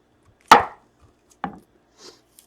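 A knife chops a red onion on a cutting board in a few sharp, separate strokes: one loud close chop, then a softer second and a faint third, with quiet between.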